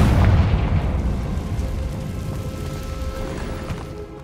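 A Confringo spell explosion in the Hogwarts Legacy video game, a loud booming blast that opens the clip and then rolls on as a long, steadily fading rumble with a faint ringing tone near the end.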